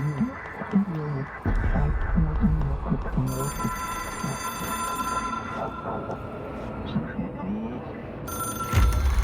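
A telephone rings in the video game Control, a rhythmic electronic ring that keeps repeating under a man's speech, with mechanical throbbing in the background.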